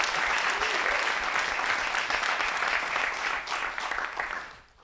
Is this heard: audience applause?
yes